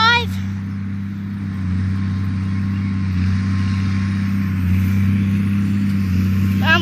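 An MX-255 tractor drives over bumpy ground, its steady low engine drone close and continuous, swelling slightly as it approaches.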